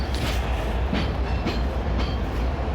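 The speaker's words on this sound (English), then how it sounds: "The train's finally moving." A moving freight train rolls along steadily and loudly close by, with a continuous rumble and a regular clickety-clack of wheels over rail joints about every half second.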